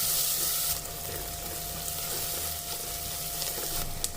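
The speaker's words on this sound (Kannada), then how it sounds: "ಈಗ ಸಣ್ಣಗೆ ಹೆಚ್ಚಿಟ್ಕೊಂಡಿರುವಂತಹ 2 ಮೀಡಿಯಂ ಸೈಜಿನ ಈರುಳ್ಳಿಯನ್ನ ಆಡ್ ಮಾಡ್ಕೊತಾ ಇದ್ದೀನಿ. ಫ್ರೈ ಮಾಡ್ಕೊಳ್ಳಿ." Two medium onions, finely chopped, fry in a pan for a crab pepper masala, giving a dense, even hiss that starts loud and settles into a steady close sizzle with faint stirring scrapes.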